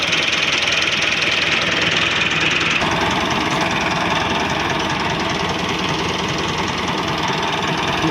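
A 2010 Massey Ferguson 375 tractor idles in neutral, its diesel engine giving a steady, close, loud chugging drone that shifts slightly in tone partway through and runs on without any voices.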